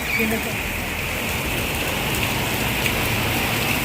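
Heavy rain pours down steadily during a Teej festival gathering, a dense, even hiss of falling water that stays loud and constant throughout, with a brief voice at the very start.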